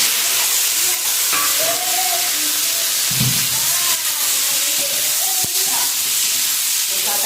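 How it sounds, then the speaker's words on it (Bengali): Tomatoes and potatoes sizzling loudly in hot oil with mustard seeds and dried chillies, a steady crackling hiss with a few stirring clatters and knocks against the pan. "এখন টমেটো আলুগুলো দিয়ে দিচ্ছি"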